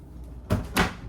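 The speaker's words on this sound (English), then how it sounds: "This is a real interesting drawer here, kind of a double-decker affair." Double-decker kitchen drawer in a 2025 Airstream Globetrotter 30RB trailer being pulled open, two quick close sliding clunks in succession, loud and alone.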